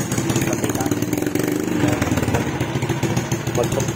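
Suzuki Raider J115Fi motorcycle engine running, a close, steady pulsing putter with rough irregular firing throughout.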